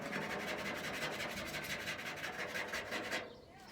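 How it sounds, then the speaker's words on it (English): A newly installed car starter motor rubs with a harsh, rhythmic scraping that pulses steadily and loudly for about three seconds, then stops abruptly, leaving a faint background. "I got the new starter and I threw it in, and guess what it was doing? It was rubbing big time."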